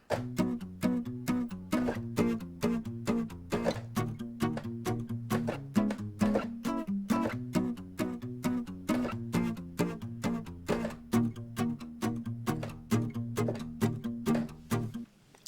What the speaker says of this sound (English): I use this library from Native Instruments called Strum Acoustic,